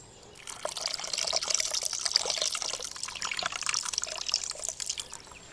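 Tamarind pulp is squeezed by hand in a glass of water, a steady close wet squelching and sloshing with no talking.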